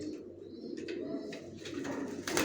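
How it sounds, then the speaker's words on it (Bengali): Racing pigeon squabs of a Johnson line coo in soft, low, continuous murmurs close by, with brief bursts of wing flapping breaking through near the end. "দেখুন কিভাবে পাখা জাপটাচ্ছে উড়ার জন্য"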